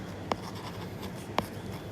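Pen on paper as a chemical reaction definition is written out, a close scratching stroke sound with two sharp taps, recorded in a quiet room with a faint hum underneath.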